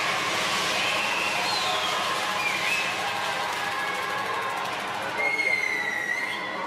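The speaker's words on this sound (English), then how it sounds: "The home crowd enjoying that one again." A home crowd cheers and applauds at a wheelchair curling match between Great Britain and Italy in Milano, a broad steady roar of voices and clapping with excited whistles rising near the end.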